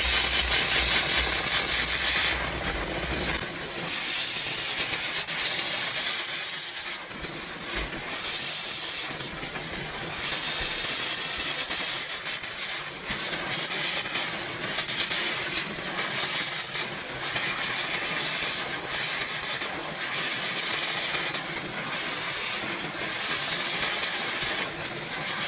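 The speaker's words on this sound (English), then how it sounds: "We also use the steamer to clean the headliners of the vehicle" A VX5000 steamer hisses steadily for a long stretch while cleaning a car's headliner during auto detailing, a loud continuous rush of steam with small fluctuations and no pauses.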